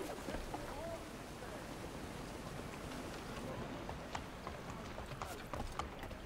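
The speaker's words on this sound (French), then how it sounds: "Si le cheval vient à moi, je vais l'appeler Bucéphale." A horse's hooves clop irregularly in the Assassin's Creed III video game, the light, sparse hoofbeats set against a constant broad wash of ambient outdoor noise.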